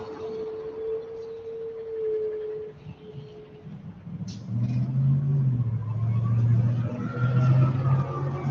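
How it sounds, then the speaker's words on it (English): Cars accelerating at a city intersection, with tire noise and a deep rumbling vehicle swell building in the second half, loud and close, after an early steady tone. "next to an intersection where there are cars accelerating, tire noise"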